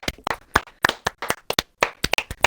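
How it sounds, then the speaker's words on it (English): Several pairs of hands clap in an uneven, sparse patter, close and crisp, with no voices. "Give him a round of applause."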